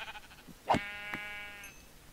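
A Minecraft sheep gives a single clear bleat, fairly close and moderately loud, followed by a shorter faint sound over a quiet game background.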